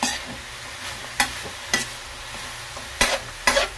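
Pork mask and ears with tofu sautéing in a pan, a soft steady sizzle broken by several sharp scraping stirs of a utensil, at moderate closeness with no talk.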